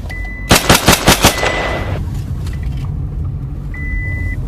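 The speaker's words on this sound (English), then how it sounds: "We're getting shot at." Gunfire rattles out in a quick burst of about five loud shots while people flee, then drops away to a low rumbling background with no talk.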